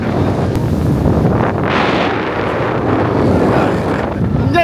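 Steady wind roars across the microphone during a boat ride on open water off Sri Lanka, with the hiss of water and the hull's motion underneath, loud and unbroken throughout.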